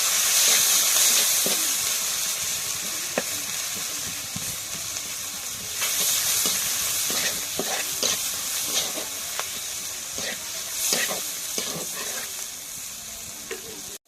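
Green chili and chopped onion sizzle loudly in hot oil while being stirred, a constant close hiss with steam and repeated scraping and clinking of a spatula against the pan.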